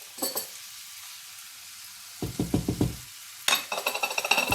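Chickpeas, tomatoes and spices sizzle in a frying pan as they are stirred, with short bursts of crackling and clattering scrapes separated by quieter gaps.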